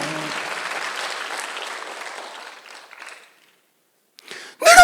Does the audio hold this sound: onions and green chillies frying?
no